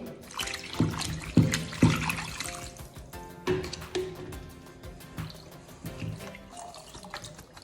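Water sloshing and draining as freshly made chhena for rasgulla is rinsed and squeezed in a sink, with irregular splashes and drips at close range and no talk.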